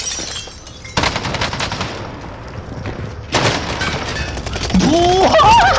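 Bursts of automatic gunfire in the video game Call of Duty: Modern Warfare, loud rapid volleys that start abruptly and run in sustained stretches, with a player's voice heard alongside.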